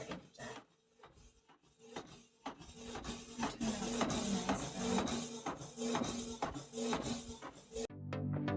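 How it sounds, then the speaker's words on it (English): An Epson inkjet converted into a sublimation printer runs a print job: steady rasping, shuffling carriage passes with rhythmic mechanical pulses, fairly loud and close, ending in a short whirring tone. "This is my sublimation printer that I turned from an Epson into a sublimation."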